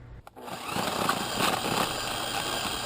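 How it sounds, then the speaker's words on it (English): A carbide tip core drill bores dry into a concrete curb, its loud steady grinding whine starting after a brief pause and holding constant, close and without talk. "The one I'm using here is called a carbide tip core drill."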